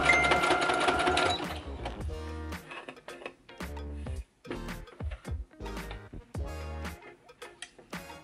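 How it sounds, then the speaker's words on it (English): A home sewing machine stitches fabric cut from a T-shirt for bikini bottoms. A fast continuous run of needle clatter gives way to short stop-start bursts as it sews forward and back-stitches, all close up with no talk. "Sew up just a little bit and then back stitch it so that it's super tight"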